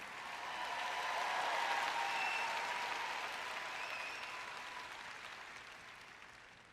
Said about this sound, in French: Allez, vous pouvez applaudir un peu plus fort que ça.